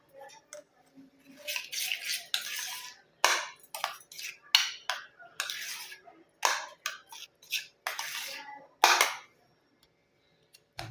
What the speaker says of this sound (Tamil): இப்போ தேன் சேர்த்துட்டு இது நல்லா கலந்து விட்டுக்கலாம்.